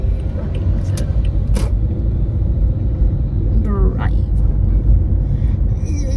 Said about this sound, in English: Bus, it's trying to drive.